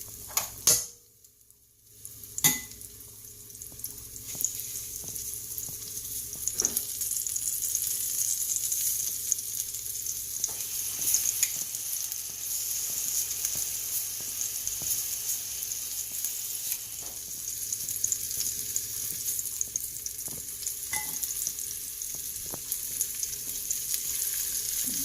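Blade steak pieces sizzle in hot olive oil on a stovetop, a steady bright frying hiss lasting throughout, broken by occasional clicks and scrapes of stirring after a brief quiet start.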